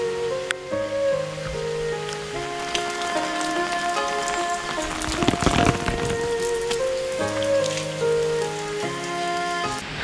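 Rain at Bai Dinh Pagoda in Ninh Binh, Vietnam, falls in a steady dense patter, with a short louder splattering burst midway, under sustained tonal music or chanting in the background.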